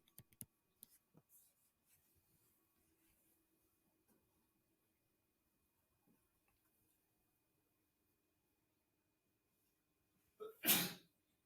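A single sharp sneeze bursts out near the end after a long near-silent stretch with faint ticks and rustles.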